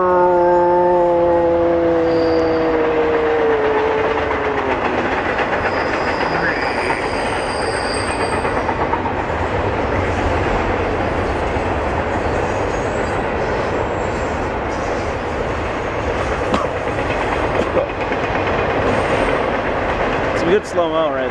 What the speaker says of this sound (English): And just a really fast train in the background.